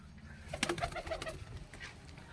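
Pigeons of the Punjabi Malai Chhatri breed coo softly nearby in a short run of low, rolling calls over a faint background hum.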